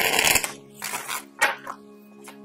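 Playing cards are riffled and shuffled in a few quick bursts, crisp and close, with a steady low hum underneath.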